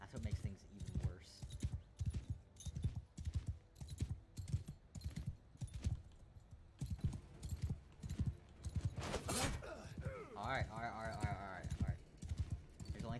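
Horse hooves clip-clopping in a quick rhythmic gallop from the game Mount and Blade Bannerlord 2, repeated clattering beats heard alongside talk and other game sounds.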